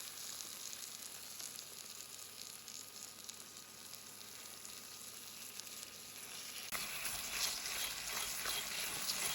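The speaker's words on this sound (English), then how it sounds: "Then the fish will keep cooking for a bit more in the hot pan" Fish sizzles skin side down in a hot pan, a soft continuous crackle that grows louder and denser toward the end.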